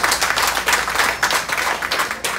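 An audience applauds the MCA at a Barisan Nasional political gathering, loud sustained clapping from a crowd filling the whole moment without a break.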